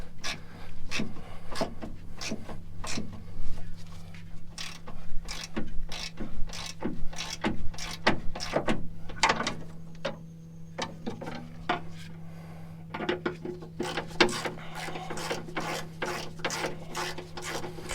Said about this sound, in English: this will take a couple of minutes of being patient and just ratcheting your life away